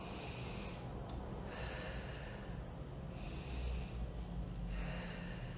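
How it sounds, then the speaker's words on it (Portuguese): Slow, deep abdominal breaths during a conscious breathing exercise, drawn in and let out in long, even cycles of airy rushing, close and steady, with no talking over them. "quando eu faço a respiração mais baixa, eu movimento a minha barriga"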